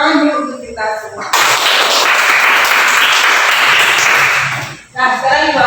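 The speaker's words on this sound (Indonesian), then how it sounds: "Tepuk tangan dulu untuk kita semua." A classroom of pupils breaks into loud, dense group applause for several seconds, with the teacher speaking just before and after it.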